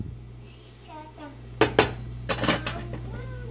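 Mushrooms stirred in a pan over high heat, giving a few metallic clinks and scrapes of a utensil against the cookware amid quiet room tone and faint vocal sounds in the background.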